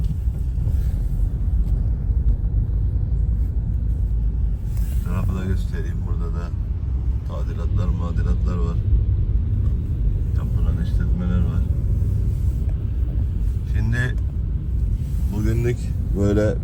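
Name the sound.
morning street traffic in Antakya, Hatay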